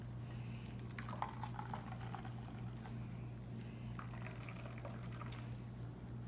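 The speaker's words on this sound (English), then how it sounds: "So I like to squeeze it till most of the liquid's out." Almond milk being squeezed out of nut pulp, soft wet trickling and dribbling of liquid over a steady low hum, faint and intermittent throughout.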